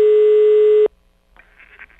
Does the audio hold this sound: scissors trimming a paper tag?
no